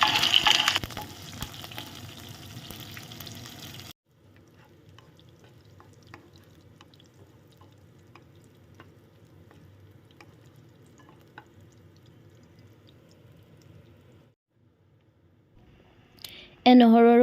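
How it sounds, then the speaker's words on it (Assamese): Garlic and green chilies fry in mustard oil in a wok for an Assamese cucumber khar, giving a soft, steady sizzle with faint stirring clicks and louder handling noise at the start and end. "তাৰ পাছতে ইয়াতে মই কেইফুটমান নহৰু আৰু কেঁচা জলকীয়া দি এইখিনি ৰঙচুৱা হোৱালৈকে ভাজি ল'ম।"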